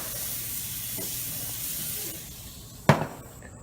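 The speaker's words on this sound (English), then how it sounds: "I'm going to put the pepper side down first because we're going to sear and Pittsburgh style the other side." Steak seared pepper side down on a hot wood-smoking grill at 500 degrees, a steady close hiss running throughout, fading slightly before a sharp sizzling burst near the end.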